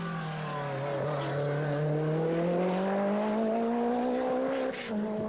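A Peugeot Group B rally car speeds along a stage at the 1986 San Remo rally, its engine note climbing steadily under heavy acceleration, loud and continuous with no voices.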